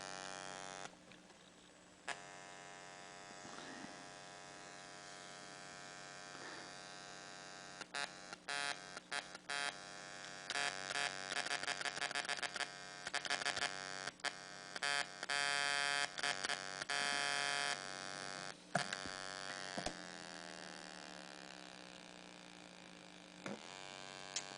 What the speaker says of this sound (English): That's electrical noise put off from calculators.